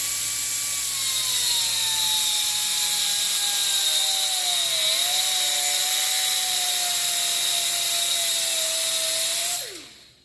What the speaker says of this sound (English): you're just going to take a cutoff wheel and you're just going to score it at the line